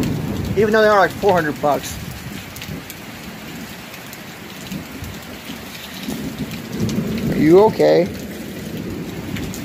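An intense thunderstorm with heavy rain pouring steadily and loudly throughout, with rumbling under it. People talk briefly at the start and again near the end.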